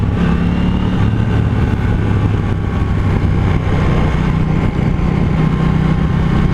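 A KTM 790 Duke motorcycle engine drones loud and close in a continuous low rumble as the throttle is closed and reopened, with steady mechanical roar and wind noise throughout.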